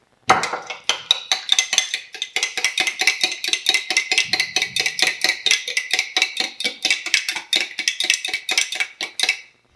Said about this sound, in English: give it a stir with a spoon